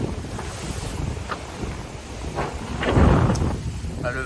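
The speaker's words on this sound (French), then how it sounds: "Le vent a bien molli" Wind and sea noise aboard an offshore racing sailboat on the Vendée Globe, a gusty rushing roar buffeting the microphone with water surges, swelling louder toward the end; no one talks.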